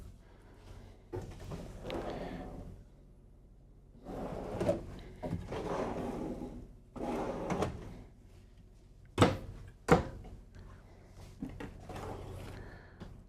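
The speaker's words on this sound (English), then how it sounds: "here's your silverware drawer" The silverware drawer in the kitchen of a 2024 Newmar Dutch Star 4081 RV is opened and closed several times, with rumbling slides followed by two sharp, close clicks as it shuts.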